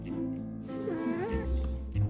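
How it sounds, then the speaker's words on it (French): A cat's distinctive meow rises and falls over about a second, heard close amid a low background rumble. "elle a commencé à me tourner autour, à miauler, avec son miaulement si particulier"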